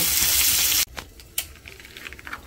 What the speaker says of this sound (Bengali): তারপরে ছোলা আলুটা দিয়ে দেব। একটু ভাজা হয়ে যাক তাহলে